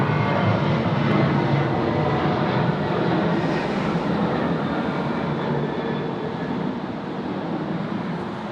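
Airbus A330 jet arriving from Perth at Sydney Airport at night in heavy rain, a loud continuous engine roar that holds steady and eases slightly toward the end.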